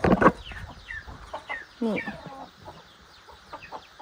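Backyard chickens clucking at a rural Lao home, a burst of close, loud clucking at the start followed by scattered softer calls, with a brief spoken word from a woman over them.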